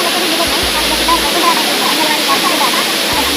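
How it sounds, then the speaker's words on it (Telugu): Water rushes down at Gundala waterfalls in a loud, continuous roar of falling water, a dense steady wash with no pauses, close to the falls. "మనకి ఇక్కడ వాటర్ అనేది వచ్చి కిందికి ఎలా అవుతుంది ఒకసారి చూడండి"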